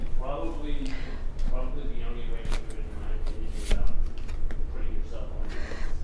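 Tarot cards are shuffled and drawn during a horoscope reading, with soft card flicks and slaps heard beneath someone talking continuously.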